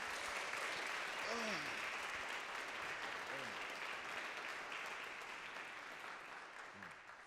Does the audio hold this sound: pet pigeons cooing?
no